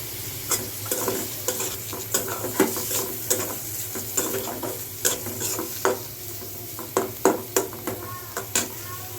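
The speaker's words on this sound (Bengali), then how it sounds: "মাছটা একটু ভুনা করে নিই।" Shrimp sizzling as they fry in a pan, with a steady hiss beneath repeated stirring scrapes and light clinks of a utensil against the pan, close and moderately loud, no talking.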